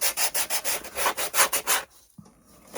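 A painted wooden primitive rooster is sanded by hand, with a black-painted area being worked. About a dozen brisk, even rasping strokes come close up, then the scraping stops and a faint soft knock follows.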